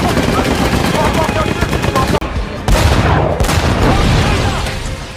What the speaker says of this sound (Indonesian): Terlihat Gordo menyuruh Norman untuk menembaki tentara Jerman yang sudah tergeletak untuk memastikan kalau mereka sudah benar-benar mati.